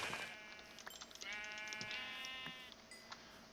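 A Minecraft sheep in the Magic Farm modpack bleats in a few quick, faint calls overlapping one another, with no other activity around them.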